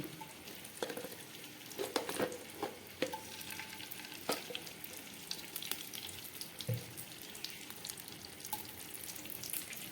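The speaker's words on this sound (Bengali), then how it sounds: "করার জন্য আমি একটা কড়াই বসিয়ে দিয়েছি। তার মধ্যে দিয়ে দিচ্ছি পরিমাণ মতো ঘি।" Ghee heating in a hot kadai for vegetable fried rice gives a soft, continuous sizzle and crackle, broken by scattered clicks and scrapes of utensils against the pan.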